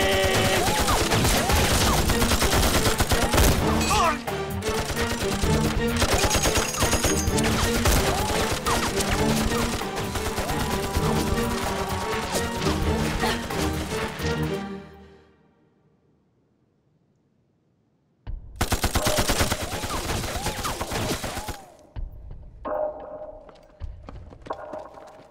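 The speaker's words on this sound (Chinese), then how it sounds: "射击！" Rifle and machine-gun fire from a battle in an anti-Japanese war drama comes as a dense, loud crackle of rapid shots. It cuts to near silence for a few seconds, then another burst erupts and fades into scattered sounds.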